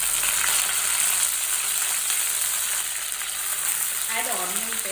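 Mint (pudina) leaves sizzle steadily in hot oil in a kadai, a continuous bright frying hiss with a brief voice speaking near the end.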